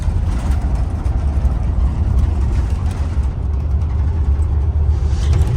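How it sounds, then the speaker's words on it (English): A double-decker bus on a Sydney harbour route rumbles along, heard from the upper deck at the front right: a loud, continuous low engine drone with road noise, steady throughout. "That's exactly like the bus we're on right now."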